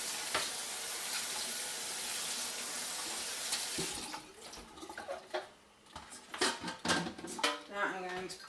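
Dishes being washed in a kitchen sink while cleaning brewing equipment, with running tap water, clinking pots and utensils, and splashing that turn into sharper, irregular clatters partway through, close and fairly loud.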